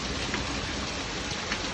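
Steady Coorg monsoon rain, a dense close hiss of falling drops with a few slightly sharper patters, constant throughout and free of talk.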